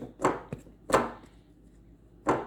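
A whole stick of butter is cut into a flour mixture for biscuits, giving three sharp, fairly close chopping thuds spaced out in an otherwise quiet stretch.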